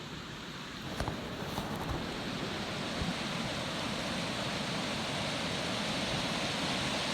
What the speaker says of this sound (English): Let's take a little walk down to the creek because I want to show you how cool the water is down there.